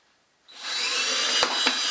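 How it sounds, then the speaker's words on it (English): A power drill spins up and bores drainage holes in the bottom of a plastic milk jug, a close, steady high whine with two brief clicks of the bit catching near the end, no talking. "Then I'm going to take a drill and I'm going to drill some holes in the"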